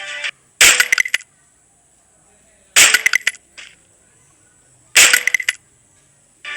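Three separate bursts of sharp, rapid video-game gunshots fired at piano tiles, each a quick flurry of cracks with bright ringing musical tones, separated by near silence.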